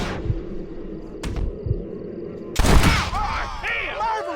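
Several sharp revolver shots ring out in a Red Dead Redemption shootout, scattered single cracks followed by a louder burst near the end, with voices heard around them.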